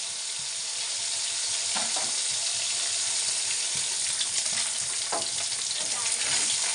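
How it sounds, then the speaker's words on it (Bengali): Rohu fish frying in a pan makes a continuous close sizzle with a few soft clinks from stirring or turning, and no voices. "মাছ ভাজা হয়ে গেছে"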